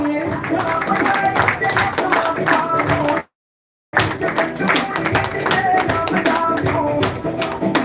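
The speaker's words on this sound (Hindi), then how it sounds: "जोरदार तालियां सबके लिए।" Audience at a company seminar in Bhatinda, Punjab claps for guests invited on stage, brisk loud clapping under background voices and music, cut by a brief dead gap before resuming.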